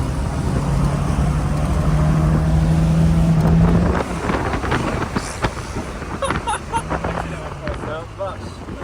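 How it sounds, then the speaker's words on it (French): Lancia Beta Spider 2000 engine with a stuck accelerator, a loud sustained roar that holds steady for about four seconds before dropping to a rougher idle, with wind buffeting and someone talking over the later part. "Ah merde, l'accélérateur est bloqué."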